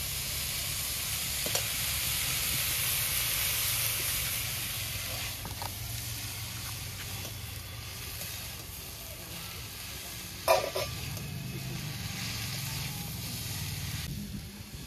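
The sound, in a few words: broccoli with spices and shrimp sizzling in a pan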